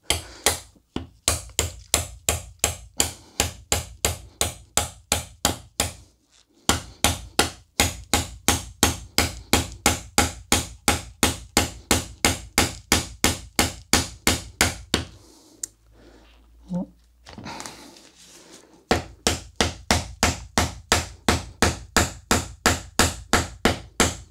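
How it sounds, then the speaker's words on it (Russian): A Kershaw Helitac knife is hammered into a tree stump with a long run of sharp, evenly spaced hammer blows, loud and close, broken by a brief pause and a short stretch of quieter handling before the strikes resume. "и теперь забиваем нож в пень"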